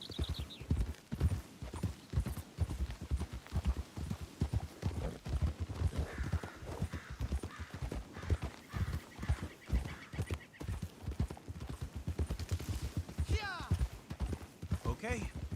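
Horse hooves clip-clop in a fast, steady rhythm throughout in Red Dead Redemption 2, with occasional neighs, while people talk over the sound.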